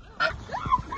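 A duck gives a few short, nasal honking calls during a duck hunt, close and fairly clear over a quiet outdoor background.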